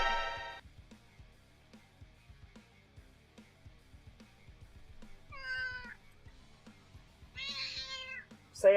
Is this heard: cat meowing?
yes